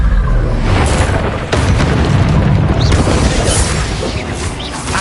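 Confringo spell explosions in the video game Hogwarts Legacy produce dense, booming blasts that fill the whole stretch, with rumbling impacts layered over a continuous loud game soundscape.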